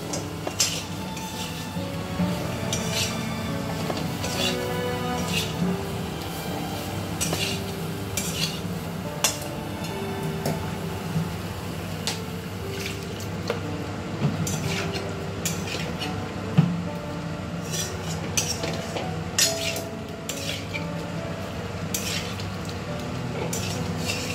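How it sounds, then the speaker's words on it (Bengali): Potatoes being stir-fried with spices in a pan, a steady soft sizzle with scraping stirs and clinks of a spoon against the metal, continuous and close with no voices. "এটাকে আমি কষতে থাকি আলুটার সাথে"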